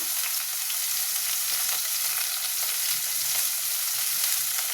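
Onions frying in a pan with a little turmeric and salt make a dense, steady hiss of sizzling oil, close and continuous throughout with no voices.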